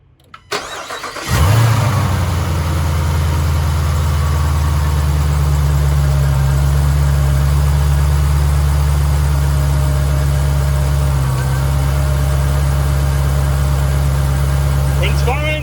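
A Dodge Durango Hellcat engine cranks and fires after a brief quiet moment, then settles into a loud, steady, deep idle that runs on without change.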